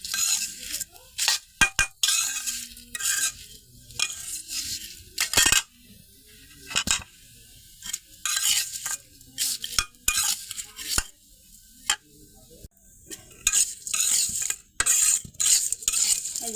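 A metal spoon stirs lachha semai vermicelli frying in a pan, scraping and clinking in quick irregular bursts with short pauses between, close and fairly loud.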